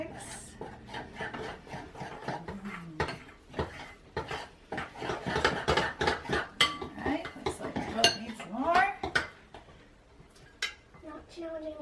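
Busy, close scraping and clinking as cookie dough is stirred in a bowl with a utensil, irregular strokes knocking against the sides, with a voice talking intermittently over the mixing.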